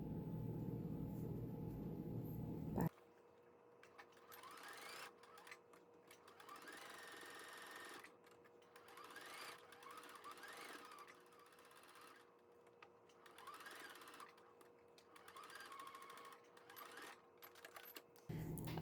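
A sewing machine stitches a scrappy fabric heart ornament, its needle clattering in a fast, even mechanical rhythm up close, pausing briefly and restarting in bursts, with louder room noise only at the very start and end.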